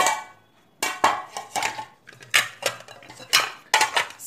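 Metal pot lids from a set of five pink pans clatter and clink against each other in a series of sharp, close knocks, with faint rustling between them.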